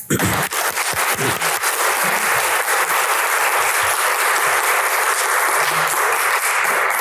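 Loud, sustained applause from a lecture audience welcoming a speaker, dense and steady clapping filling the room for several seconds.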